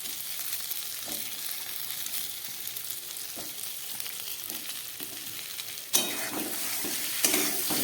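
Pieces of fried cauliflower added back to a pan of spices and frying again, with a steady bright sizzle and occasional stirring clinks, plus a sharper crackle near the end.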